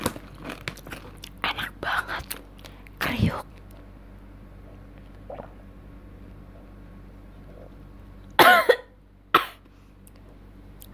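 Coughing after choking on spicy crunchy food: a burst of chewing and crunching up front, then a sharp cough and a couple of loud, hacking coughs near the end, close to the microphone.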